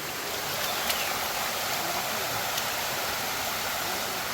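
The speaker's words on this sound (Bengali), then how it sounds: "এখন দেখুন এই পাশ থেকেও আসতেছে পানি এই পাশ থেকেও আসতেছে" Stream water rushes steadily beside a forest trail at Barabkunda near Sitakunda, fed from both sides, a constant broadband wash with no pauses and no voices.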